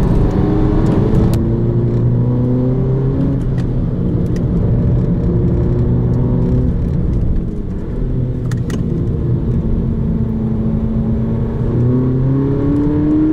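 A 2018 Volkswagen Polo GTI accelerates on a test drive, heard from inside the cabin. Its engine tone rises and falls through gear changes under a constant loud road and engine roar, with a few brief clicks.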